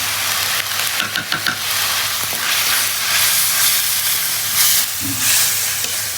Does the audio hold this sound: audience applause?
no